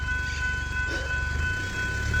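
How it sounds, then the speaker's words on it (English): Warning signal at the Main Hurstbridge Road level crossing in Diamond Creek, Victoria, sounding as a train approaches: a steady, ringing tone held over low background rumble, with no voices. "level crossing just started now."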